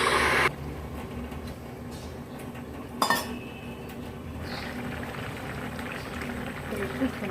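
A metal lid clinks onto a pot of fish curry with lote fish, potato and eggplant, one sharp clatter mid-clip after a brief clink at the start, over steady low kitchen background noise.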